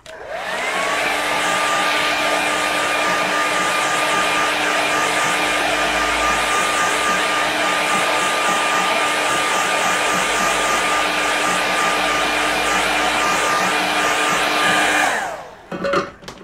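A hair dryer blows steadily on a wet watercolour winter landscape painting, a loud close whooshing roar with a constant motor whine that runs unbroken for about fifteen seconds before switching off.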